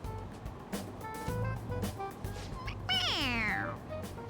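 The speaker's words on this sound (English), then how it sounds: "It meows when you press on its head." A toy cat in Persona 5 Royal gives a single loud, rising-then-falling meow when its head is pressed, heard clearly over a low game-music bed.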